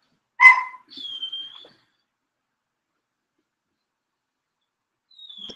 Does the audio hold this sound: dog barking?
yes